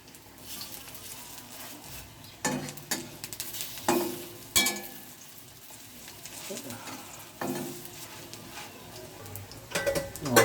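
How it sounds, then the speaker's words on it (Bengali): Bitter gourd leaf and lentil fritters fry in hot oil, a soft continuous sizzle broken by several sharper clatters of a utensil against the pan. "সুন্দর ভাজা এরকম লাল লাল করে ভেজে নেবো"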